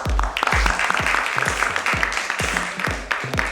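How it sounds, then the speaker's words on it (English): Applause at a nursing conference in a Mumbai hotel as a panelist is called to the stage, loud clapping with rhythmic thumping beats running beneath it throughout. "Let's give her a huge round of applause."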